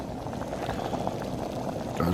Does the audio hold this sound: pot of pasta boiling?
yes